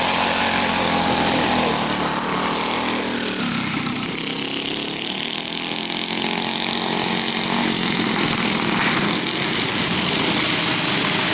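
Racing go-karts at a karting club speedway roar past together, a dense continuous buzz of small engines sustained at steady loudness without voices.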